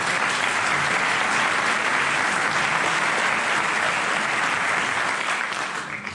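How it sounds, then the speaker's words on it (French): Dense, sustained applause from an audience at a New Year's wishes ceremony in a town hall, loud and even throughout before tapering slightly at the end. "Et je sais qu'elle sera sensible à vos applaudissements."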